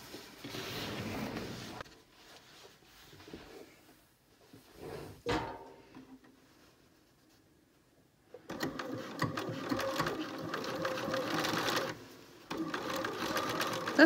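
A domestic sewing machine stitches a seam on dress trousers in short bursts: a brief run, a pause with a sharp click, then a long steady whirring run near the end.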